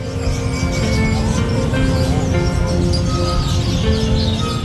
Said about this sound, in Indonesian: suara kicauan burung yang memenuhi udara